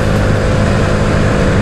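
A Vespa scooter engine roars at full throttle, a loud, dense, constant drone filling the whole short stretch with no letup.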